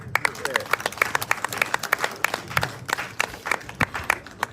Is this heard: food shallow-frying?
no